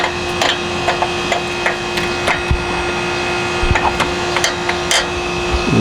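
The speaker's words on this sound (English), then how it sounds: "See the hammer, small hammer." A small hammer beats a little washer into place on a Honda motorcycle, sharp metallic taps landing irregularly over several seconds against a steady background hum.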